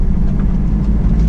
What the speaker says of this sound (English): First gear change.